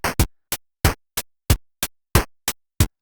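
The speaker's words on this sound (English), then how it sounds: "That sound is much more like a kick drum." Ten short, punchy 8-bit kick drum hits from the Magical 8-Bit Plug in Logic Pro X, each with a near-instant pitch sweep and quick decay. They fall in an uneven rhythmic pattern, loud and dry, with silence between them.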